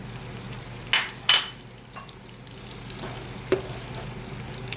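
Onion and garlic sauté in butter in a pan with a soft, steady sizzle, punctuated by a few sharp clinks and scrapes from stirring early on and again later.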